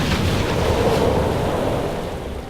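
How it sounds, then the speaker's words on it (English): Water sprays onto aircraft at an airfield in World of Warcraft with a steady, loud rushing hiss. The sound holds even and unbroken throughout, with no voices. "we're just gonna come over here and spray some water on these planes"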